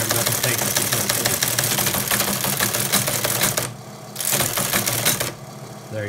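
Teletype Model 15 serving as a CP/M console on an Altair 8800 clatters loudly in rapid, rhythmic mechanical strikes while printing, pausing briefly twice before resuming.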